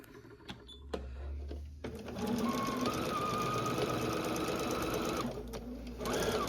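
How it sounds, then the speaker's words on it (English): A sewing machine runs steadily, stitching along a fabric fold about an eighth of an inch from the edge, with a continuous fast mechanical whir and brief pauses at the start and near the end. "So basically I'm going to sew like 1/8 of an inch from the edge of this fold all the way down through here."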